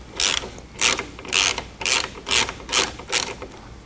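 A ratchet driving a T30 bit backs out the wing upright bolts on a Porsche 718 GT4, giving seven regular bursts of close, loud clicking pawl, each a short rasping run separated by brief pauses, with no talk.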